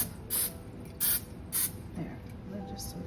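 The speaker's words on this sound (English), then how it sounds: "I'm going to spray the pan with some Pam. Spray just a little bit." Three short bursts of Pam cooking spray hiss into a pan, each about a quarter second long and fairly close, followed by a softer fourth puff, over faint kitchen background.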